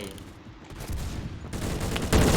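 Gunfire from a BFG50 sniper rifle in a shooting video game, with loud, sharp reports building toward the end, the last blast the strongest, heard over busy game background noise.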